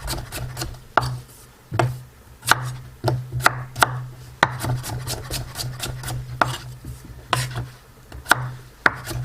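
Red skin potatoes being chopped on a cutting board: sharp knife strikes land in an uneven rhythm, close and crisp, with light scraping between the cuts.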